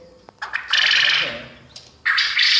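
Male quails give harsh, loud calls in two long bursts, close by, with a quieter voice and faint clicks between them.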